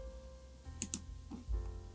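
Someone presses the Enter key on a computer keyboard while working in GIMP 2.10, giving a quick double click of the key, close and crisp, against a low steady hum.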